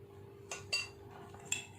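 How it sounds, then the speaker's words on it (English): A spoon mixes mug pizza batter in a mug, giving a few light clinks and taps against the sides, faint and spaced out over low steady background noise. "Now mix it well so that it should not get bind."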